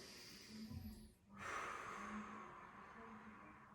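Deep inhalation during a guided fitness exercise session, a broad breathy rush that swells after a brief pause and holds steady for a couple of seconds, close and fairly soft.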